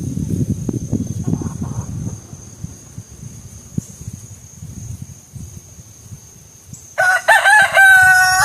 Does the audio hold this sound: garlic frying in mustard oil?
no